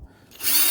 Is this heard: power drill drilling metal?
yes